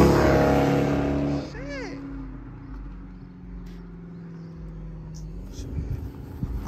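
A Dodge Charger SRT8 Super Bee roars past on a fast fly-by. A loud engine rush at the start gives way to a lower, fading drone, and people talk nearby.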